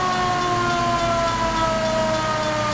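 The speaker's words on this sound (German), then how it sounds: "Und hier haben wir die Sirene." A fire engine siren from the video game L.A. Noire wails steadily and loudly for the whole stretch, its layered tones slowly gliding over a low engine rumble, with no talking.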